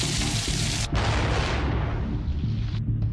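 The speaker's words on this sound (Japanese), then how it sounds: "時間差で火薬に点火して送風機で破片を左右に飛ばすことでスパイラル爆発の感じを出しているんだ。" A pyrotechnic gunpowder blast on a special-effects film set, with fans blowing debris sideways; a loud booming burst dies into a rushing, roaring decay, then a second sharper burst near the end, with no talk.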